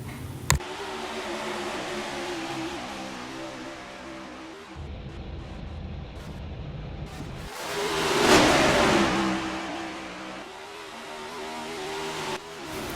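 Stock cars roar away from the Daytona 500 race start, engines building and revving as the pack surges past, swelling to a loud whooshing peak before settling into a steady drone.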